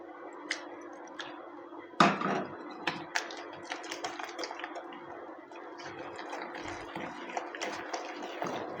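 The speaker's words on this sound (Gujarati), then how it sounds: "હવે આપણે એમાં થોડું થોડું પાણી એડ કરતાં જે બેટર બનાવી લઈશું" Water added little by little to garlic sandwich dhokla batter in a mixing bowl, giving soft splashes and wet squishing with a sharp clatter early on, then a run of small drips and clicks, close and fairly quiet, no talk.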